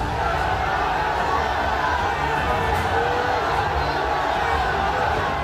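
Large dense crowd packed outside a mosque from the building to the street railings, a loud continuous roar of many voices with shouting, tense and unbroken throughout.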